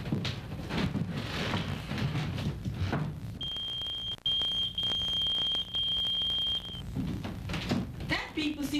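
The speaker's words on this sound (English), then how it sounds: "That beeper seems to be going off every half hour." Pager beeper going off indoors, a single sustained high electronic tone lasting about three seconds, fairly loud, with people talking before and after it.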